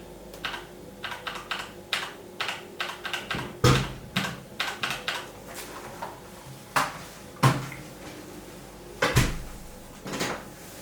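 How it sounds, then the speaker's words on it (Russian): Keys on a mechanical keypad clack close by in an irregular run of sharp clicks, a few landing harder than the rest, with no talking. "У меня есть механический кейпад."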